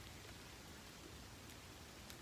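Light rain pattering on forest trees, a soft continuous hiss with occasional drips, faint and steady with no voices.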